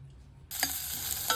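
Onions hit hot sunflower oil in a pressure cooker and start to sizzle loudly after a quiet start, with a steady bright hiss and a couple of stirring scrapes, no talking.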